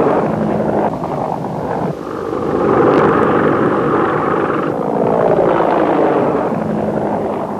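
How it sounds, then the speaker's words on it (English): Super Cobra attack helicopters roar overhead during the Desert Storm assault on a town, a loud, dense rotor-and-turbine drone that swells and fades as the aircraft pass near, with no voices over it. "The Super Cobra helicopters were called in to help take the town."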